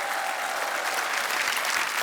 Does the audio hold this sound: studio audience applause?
yes